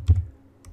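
A few quick keystrokes on a computer keyboard, a soft close clatter of two taps followed by a lighter one after a brief pause.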